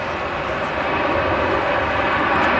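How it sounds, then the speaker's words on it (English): Steady, loud jet roar from an Air Canada A330's engines at Manchester Airport, a continuous broadband rumble building slightly toward the end, heard alone without voices. "Real roar to them engines."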